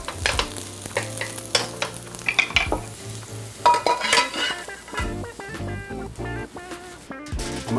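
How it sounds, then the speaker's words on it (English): Potatoes sautéing in a frying pan until golden and crispy for huevos rancheros, a steady sizzle broken by frequent spatula scrapes and stirring clatter, with tonal clinks of utensils against the pan throughout. "I'm gonna saute these up until they're nice and golden and crispy."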